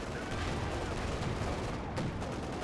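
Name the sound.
tank and gun fire in the video game Company of Heroes 2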